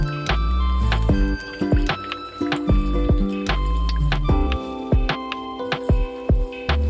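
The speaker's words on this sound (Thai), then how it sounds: "คนส่วนผสมของเหลวให้เข้ากัน" Liquid cake batter of milk, water, rice bran oil and vanilla being stirred in a bowl, close wet sloshing and squishing strokes with small drips in a steady, uneven rhythm.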